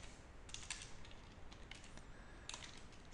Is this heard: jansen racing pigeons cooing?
no